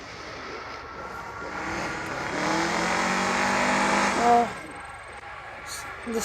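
Race car engines in NFS No Limits swell into a sustained roar that builds over several seconds, then cuts off into quieter game sounds.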